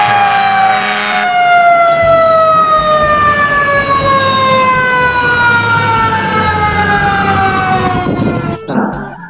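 A toy fire truck siren wails loudly and continuously, one long electronic tone sweeping slowly downward close to the listener, ending with a brief clatter.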